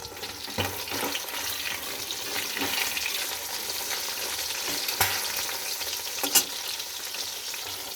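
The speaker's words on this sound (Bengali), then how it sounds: "এবার মাছগুলো আমার এক পিঠ ভাজা হয়ে গেছে, আর এক পিঠ ভেজে নেব" Bata fish fries in a pan with a continuous loud sizzle and crackle, broken by a few sharp spatula scrapes and taps as the pieces are turned.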